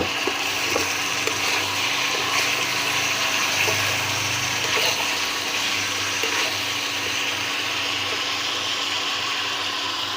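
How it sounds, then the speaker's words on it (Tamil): Chicken gravy sautéing in a pan gives off a steady, dense sizzle with faint stirring scrapes, close and continuous throughout, with no speech. "கொஞ்சம் நல்லா வதக்கி விட்டுக்கலாம்"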